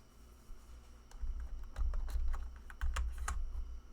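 Keyboard typing at a computer, with a string of sharp key clicks and heavier taps bunched in short bursts, close and fairly loud over a low background rumble, no talking.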